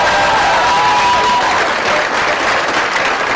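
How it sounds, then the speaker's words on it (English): A large graduation audience applauds the graduates, with dense, loud, sustained clapping and a faint voice underneath. "let's give applause to our graduates"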